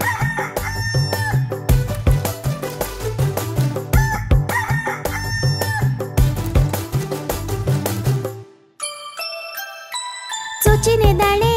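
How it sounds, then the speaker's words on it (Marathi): A rooster crows within a lively children's song, its call mixed into loud, rhythmic music with jingling tones and a brief pause near the end. "सूर्य उगवता घरच्या सगळ्यांना उठवी हा कोंबडा."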